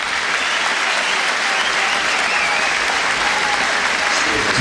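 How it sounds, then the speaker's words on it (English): A large football stadium crowd at a Carlisle United v Yeovil Town National League match applauds loudly and continuously, a dense roar of clapping and cheering with no breaks. "Listen to this applause for Stephen Wern."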